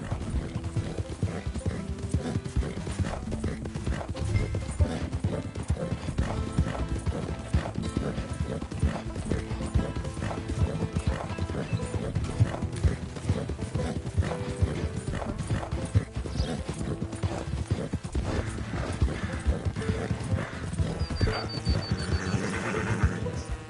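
Donkey hooves clip-clop steadily in Red Dead Redemption 2, a continuous rhythmic hoof beat over a dense game soundscape with no clear talk.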